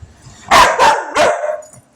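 A young female puppy lets out three quick, sharp high-pitched barks close to the microphone, with a faint yip trailing off at the end.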